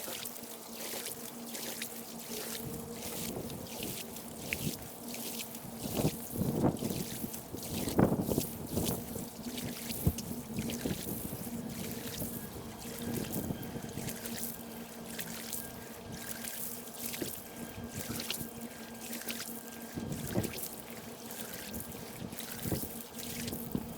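Water wand rinsing a woven wool rug, a steady spraying hiss with gurgling and splashing that swells at moments, continuous and fairly faint throughout.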